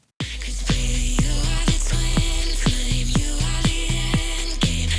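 The drop from an electronic track starts with a heavy sustained sub-bass, while punchy hits with falling pitch repeat in a driving rhythm over dense synth layers, loud with no voices.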